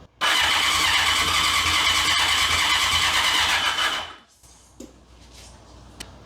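A BMW K100 motorcycle's electric starter cranks the engine in a loud, steady whirring grind for about four seconds without the engine catching, then cuts off, leaving faint clicks and quiet.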